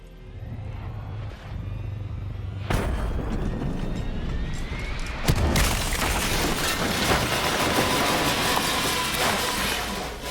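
Huge explosions boom through the video game Call of Duty Black Ops 3 Nightmares, with loud, sustained blasts and rumbling debris that keep going after a sudden burst, with no talking.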